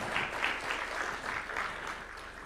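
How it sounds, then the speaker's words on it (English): An audience at a formal national address applauds the president of Kenya, a broad, even wash of clapping from a sizable crowd at middle distance that swells and eases in gentle waves, with no talking over it. "Another round of applause for His Excellency"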